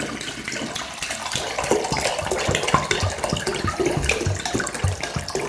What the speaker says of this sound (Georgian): ვიღებთ წყალს დაახლოებით ლიტრას რა.